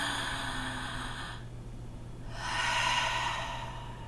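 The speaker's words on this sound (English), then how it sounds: "Let's take a deep breath." A slow, deep breath taken during a stress-release yoga session: a long, airy inhale, a brief pause, then a full, audible exhale, close and alone.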